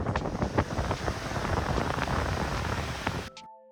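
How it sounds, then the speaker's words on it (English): Waves roll onto the white sand of Champagne Beach in Vanuatu on a windy day: a steady, broad wash of surf and wind buffeting with scattered crackles, cutting off abruptly near the end. "watch the waves roll in onto the white sand"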